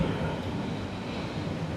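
A train rolls past a station platform in Germany, a steady, loud low rumble with clattering wheels that holds through the whole moment with no pause.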